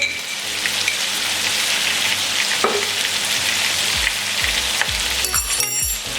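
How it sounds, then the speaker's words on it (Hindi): Spices with turmeric and salt fry in a hot pan, giving a steady close sizzle with a few soft stirring knocks and scrapes scattered through it. "तो 10 से 20 सेकंड के लिए अच्छे से फ्राई कर लेंगे।"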